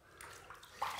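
Water splashed onto a face at a sink to rinse after shaving with glycerin soap, a short, soft burst of running water and splashing, close by and quiet.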